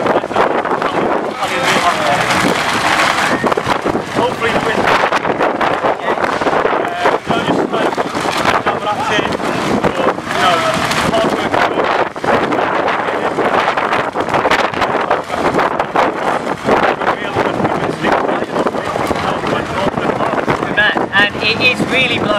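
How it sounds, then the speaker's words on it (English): Strong outdoor wind buffets the microphone nonstop, a loud, rumbling roar that covers the whole stretch while people talk through it, ahead of the 2015 Rotterdam marathon. "It is really blowy out here."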